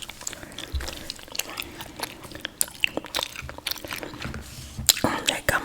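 Close, moist chewing of gum with small crunching and smacking clicks in an irregular rhythm, recorded intimately in ASMR style with soft whispery breath sounds throughout.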